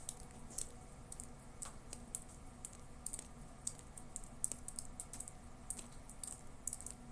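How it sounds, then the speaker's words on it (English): Snow melt drips beside the camera outdoors in snow, small soft ticks and taps scattered irregularly at close range, faint against a low background. "there's a drip happening actually right next to my camera"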